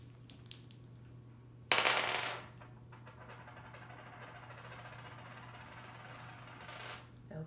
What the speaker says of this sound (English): We're going to roll the dice.